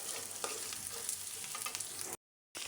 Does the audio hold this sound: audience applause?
no